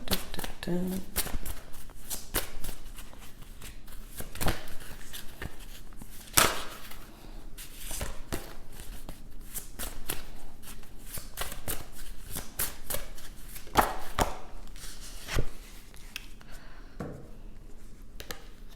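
A whole deck of playing cards is shuffled over and over, crisp riffles and sharp snaps repeating close up for the full length while a person talks over them.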